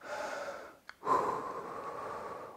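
Heavy, labored breathing from a person winded after a home fat-loss workout of calf raises, a few close, loud exhales and a sharp gasp separated by a brief pause.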